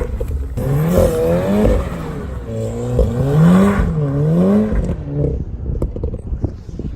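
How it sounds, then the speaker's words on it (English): A Volkswagen Golf R engine revs through rising and falling sweeps, loud and close, before settling into a lower idle rumble. "Golf R's are one of the best sounding cars out here."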